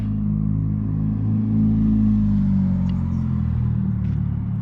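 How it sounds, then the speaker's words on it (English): A loud, low engine rumble drones steadily nearby as a car with no exhaust passes, its unmuffled growl swelling slightly before easing off. "Somebody has no exhaust coming by."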